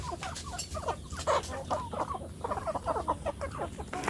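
Free-range village hens kept in a netted run cluck in short, irregular bursts, several birds close by and fairly loud, with no talk over them.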